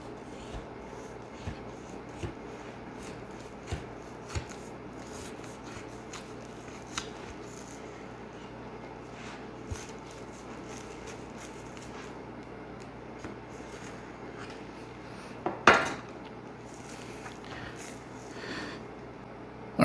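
A chef knife from a Coquusaid block set works through a rib roast, splitting between the cartilage: soft, quiet rasping and scraping with scattered small clicks, then a louder crunching burst near the end, with no talk.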